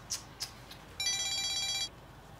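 An electronic telephone ring sounds once, a steady chiming burst of about one second, preceded by a few faint clicks, with no talking.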